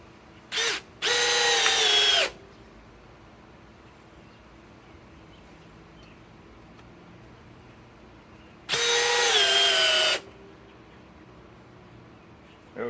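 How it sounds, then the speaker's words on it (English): A Milwaukee M12 hammer drill on speed 2 drives 4-inch timber lok screws, heard as a short whir followed by two loud sustained bursts of roughly two seconds each, with quiet pauses between. "We're going to run some 4-inch timber locks."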